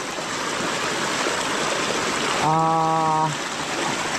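Floodwater rushes loudly and continuously through a river and irrigation channel after a night of heavy flooding, a close, steady roar with a short tonal hum rising partway through.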